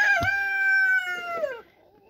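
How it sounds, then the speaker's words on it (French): Roosters of the Brahma breed crowing in the late afternoon, one long drawn-out call loud and close for about a second and a half, then fading out into quiet. "excusez-moi pour les coqs qui chantent"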